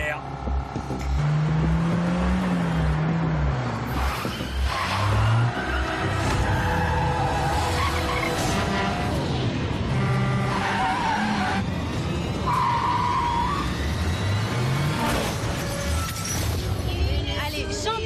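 A car accelerates hard and skids, with engine revving, tire squeal and a possible crash-like clatter, with people talking over it.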